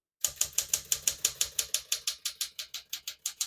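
Typing on a 1966 Smith-Corona Sterling portable typewriter: crisp, evenly spaced key strikes with a mechanical clack, about five or six per second, close and alone with no talk.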